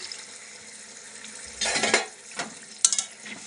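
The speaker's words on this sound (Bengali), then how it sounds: "আমি এখন জল দিয়ে দেব আর একটু জল লাগবে আর একটু জল দিয়ে দিলাম" Water is splashed into hot oil in a pan for a paneer curry, setting off a few sharp, close bursts of hissing sizzle, with a lower frying hiss in between.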